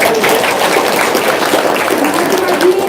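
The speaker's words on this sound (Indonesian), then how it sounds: "Tepuk tangan dong." An audience in a seated talk or religious lecture hall breaks into steady clapping that fills the whole moment, loud and close, with some voices mixed in.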